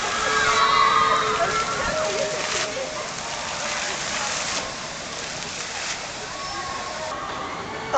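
Water splashes and sprays steadily over riders on a Parc Astérix water ride, a dense hissing wash that is loudest at the start and eases slightly, with voices faint beneath it.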